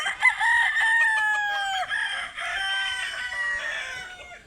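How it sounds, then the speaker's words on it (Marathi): Fighting roosters: one crows loudly and close by in long drawn-out calls, overlapped by other crowing and clucking from several birds. "त्या कॉर्नरमधल्या कोंबड्या किती छान फाईट करतायत"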